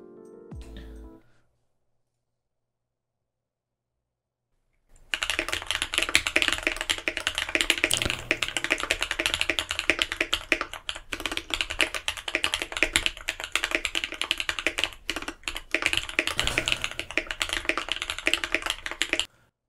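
Custom mechanical keyboard being typed on, a brief burst of clicks, then a few seconds of silence, followed by a long, dense run of rapid, close, crisp keystrokes with occasional heavier thocks.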